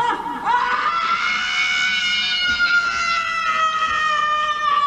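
A woman lets out a long, piercing scream, loud and sustained for several seconds with a wavering pitch.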